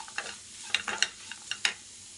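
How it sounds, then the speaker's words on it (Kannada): Garlic, spice and rice mixture frying in a pan with scattered crackling sizzles and a few scraping stir strokes; quiet, no voices. "ಇದು ಒಂದು ಸ್ವಲ್ಪ ಫ್ರೈ ಆಗಬೇಕು."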